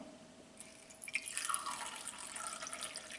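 Tap water runs into a glass holding pieces of cut onion, a thin trickle that swells into a brighter splashing fill and carries on steadily, with no talking.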